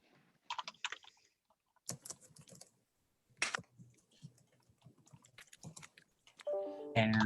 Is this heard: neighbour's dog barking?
no